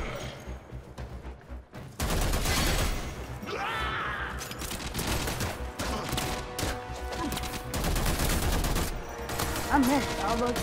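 Rapid gunfire in the video game Warframe, a dense burst of shots that kicks in after a brief quiet start and keeps going with booms and electronic effects layered throughout.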